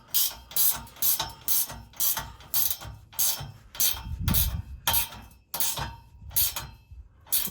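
A ratchet tightens a 13 mm OEM lock nut on a Corvette, clicking in about a dozen quick, even strokes up close with brief pauses between pulls and no speech.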